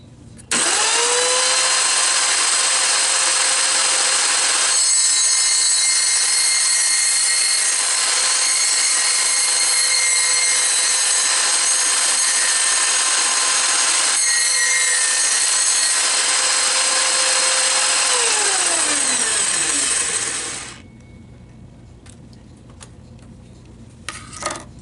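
Homemade modeling table saw cutting 1/8 inch plywood, a loud steady high whine held for about twenty seconds, then winding down and fading to near silence.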